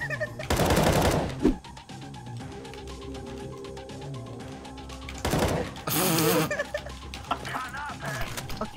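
CS:GO gunfire in a competitive match: two loud bursts of rapid shots a few seconds apart, each lasting around a second, with quieter game sounds between them.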